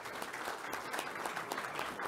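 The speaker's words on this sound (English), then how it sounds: "can you all give our partners a wonderful round of applause?" Audience at a finance brokers' industry day event claps for sponsors in a dense, sustained round of applause, loud and continuous throughout.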